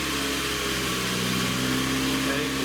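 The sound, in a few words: car engine starting and revving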